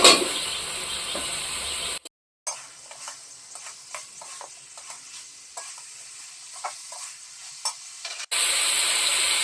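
Pieces of jackfruit dropped into a frying pan with spices set off a loud sizzle, then cut to repeated scraping and tapping of a spatula over a quieter fry before the loud sizzle returns.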